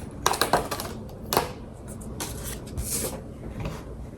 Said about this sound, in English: And now we're going to peel this stuff off.